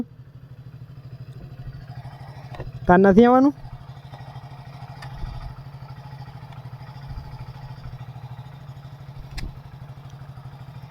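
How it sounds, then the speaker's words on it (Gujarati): A motorcycle engine idles with a steady low hum throughout, and a person speaks briefly over it near the start. "બાઇક ઉપર બેઠી ગયો છે જવા માટે"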